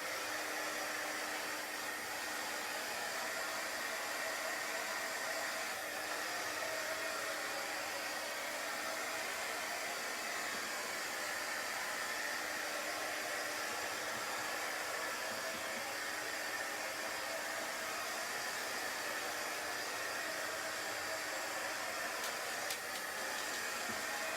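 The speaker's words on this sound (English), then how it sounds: "And now I'm going to dry it really well, hopefully." A hair dryer drying paint on a Chalk Couture craft project roars as a steady, constant whoosh of blowing air. It runs close and unbroken from start to finish.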